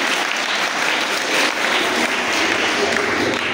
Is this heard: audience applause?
yes